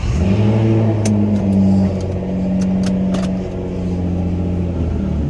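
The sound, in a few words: Nissan GTR engine starting up and revving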